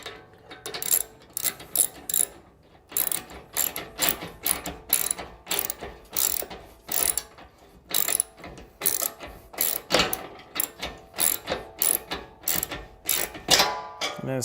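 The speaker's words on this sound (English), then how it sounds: "using the wrench to get started on the inside" A wrench ratchets on the bolts of a rear door platform being installed on a Ford Transit van, giving loud, close bursts of rapid clicking that stop and start repeatedly with short pauses between strokes.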